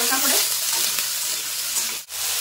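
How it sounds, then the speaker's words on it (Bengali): Sliced eggplant dusted with turmeric fries in hot oil in a kadai, giving a close, loud, steady sizzle with a brief stirring pause near the end. "ওই তেলের ভিতর আমি কেটে রাখা বেগুনগুলোও কিন্তু হালকা করে ভেজে নেব"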